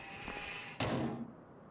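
Door closing in the farming game Farming Simulator 25: a soft creak builds, then a single solid slam lands with a brief rattling tail before fading into quiet room tone.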